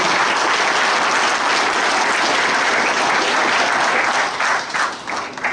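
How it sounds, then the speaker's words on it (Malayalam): A seminary audience breaks into loud, dense applause to welcome guests, a continuous wash of clapping that fades slightly near the end. "ഇവരെ എല്ലാവരെയും നമ്മുടെ ഹൃദയത്തിന്റെ ഭാഷയിൽ കൈയടിച്ച് സ്വീകരിച്ചുകൊണ്ട്"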